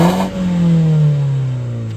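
A Mini Cooper S engine revs loudly and close by, with one rising throttle blip that sweeps up in pitch and then falls back toward idle over about two seconds.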